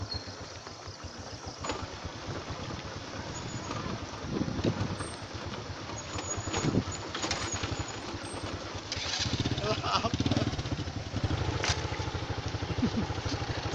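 A motorcycle engine runs steadily on a village road in Puncakbaru, Pangalengan, its rumble continuous throughout with wind noise over the mic and louder swells near the middle and end.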